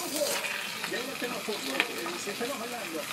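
Meat and onions fry on a food truck griddle with a steady broadband sizzle, while people talk over it throughout.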